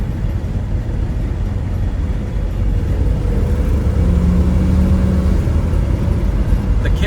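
A 1969 Chevrolet C10 pickup with a 350 V8 and automatic transmission kicks down and accelerates on the road, a steady loud low engine drone with road rumble building slightly throughout.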